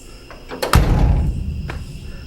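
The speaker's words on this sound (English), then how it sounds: "say you're shutting it from the outside" A classic truck door fitted with an Altman Easy Latch swings shut from outside with a single solid, muffled thunk, preceded by a few light clicks and followed by a brief low rumble.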